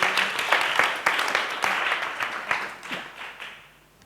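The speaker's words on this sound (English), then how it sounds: "a hand of applause for Louise" Audience applause with many hands clapping in a dense, steady patter that fades toward the end, heard at a talk on spiritual facilitation.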